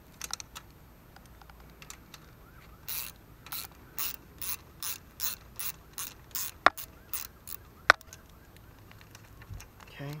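Ratchet wrench loosening a carburetor bolt on a Honda GCV160 engine from a Karcher pressure washer: a steady run of crisp, close clicking bursts, punctuated by a couple of sharp metallic knocks.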